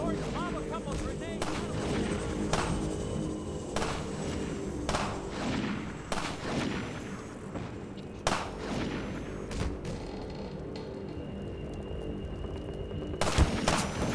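Sniper rifle shots and a grenade blast in Half-Life 2 punctuate the scene as a series of sharp, spaced cracks and booms, some near and loud, others more distant, over a murky combat backdrop with faint voices.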